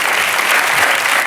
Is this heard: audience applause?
yes